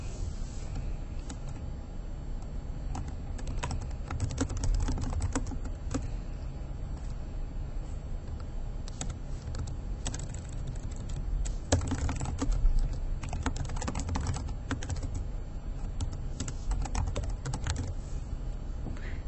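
Typing on a computer keyboard to enter a goal into a school software form, with a steady patter of close key clicks over a constant low background hum.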